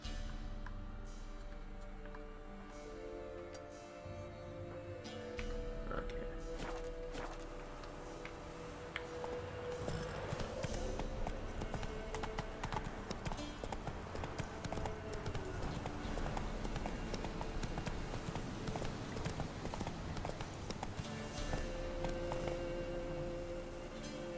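Hooves of the horse Roach in The Witcher clip-clop at a walk, a steady rhythmic beat over a bed of game music and ambience, moderately loud throughout.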